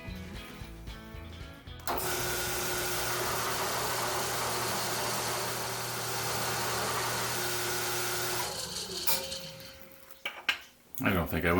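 A drill bores a 3/8 inch hole into a wooden table, starting with a sharp onset into a loud, steady whine that runs for several seconds before cutting off, followed by some clattering handling noises; no talking.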